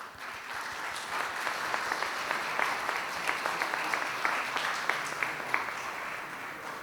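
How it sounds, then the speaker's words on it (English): Audience at a congress meeting applauds its presenters with a steady round of clapping, dense and sustained throughout, with a few sharper individual claps popping out near the front. "please join me in giving another round of applause to all our presenters"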